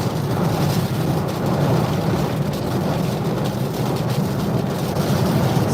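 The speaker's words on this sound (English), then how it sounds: "Heavy rain falling now." Heavy rain pours steadily onto a vehicle during a storm chase in the Panhandle, a loud, dense, continuous roar with no pauses, up close and with no talking.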